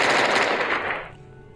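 Sustained AK-47 automatic fire in a shooter video game, a dense loud burst lasting about a second before cutting off and fading into a quiet tail, with no talking.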